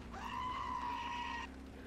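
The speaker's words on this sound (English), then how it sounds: "Now, Johnny, if she makes that noise, it's a fucking goat." A single goat bleat from a ringtone app, thin and drawn out for over a second, plays faintly against a quiet background hum.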